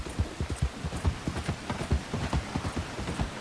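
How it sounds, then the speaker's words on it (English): Horse hooves pulling a wagon in Red Dead Redemption 2, a quick rhythmic clip-clop at a steady trot, soft and low, with no speech. "Eu achei que era só um cavalo, mas é uma carroça, filho."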